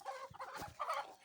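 Young chicks on a farmstead give faint, short calls in a brief burst close by, with no talk over them.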